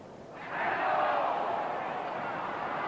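Football crowd at a Tottenham v Manchester United match appealing for handball, a surging shout of many voices that swells quickly and holds steady, heard from a distance.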